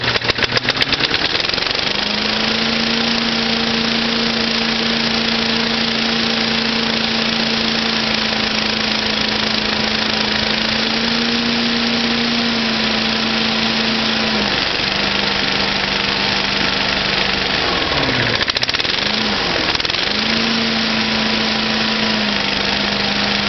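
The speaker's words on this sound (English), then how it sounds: "once that motor is started" A Cyclone Rake lawn vacuum's small motor runs steadily after starting, a loud close drone that holds an even pitch, dips and recovers briefly a couple of times, with no talk.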